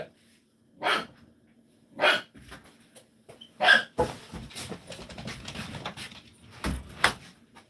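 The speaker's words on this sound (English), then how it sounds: "Man, my dog's going crazy." A dog barks in sharp, separate bursts, several loud yelps spaced over a few seconds, with rustling and breathing between them in a quiet room.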